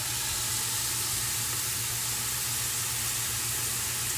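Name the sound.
food browning and sizzling in a pot for tomato orzo soup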